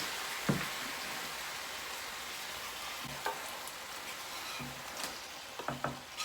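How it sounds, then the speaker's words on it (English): Chopped tomatoes added to garlic sautéing in a pan, a soft steady sizzle with scattered clicks and scrapes from stirring, fairly quiet and free of voices. "Okay, now we're gonna quickly add the tomato that we had and the tomato we chopped."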